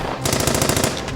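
A machine gun fires a rapid burst of about a dozen closely spaced shots, loud and sharp, lasting roughly a second, in an action series shootout.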